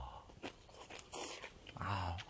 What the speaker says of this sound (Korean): 콩나물이 아삭아삭한가 봐.